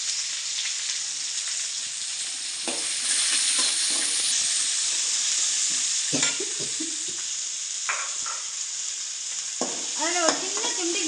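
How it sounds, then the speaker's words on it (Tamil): Onions, ginger and green chillies sautéing in a pan with oil for wheat-flour veg fried momos, a steady close sizzle broken by repeated scraping strokes of a stirring spoon against the pan. "வெங்காயத்தோடு சேர்த்து வதக்கிடுவேன்."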